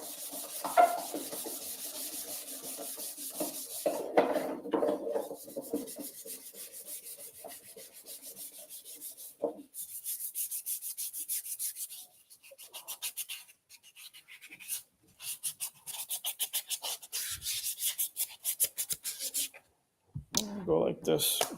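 A 400 grit sandpaper works over a car body in a wet sand before base and clear paint, giving soft, repeated rubbing strokes that come and go in bursts, fairly faint and close, with gaps of near silence.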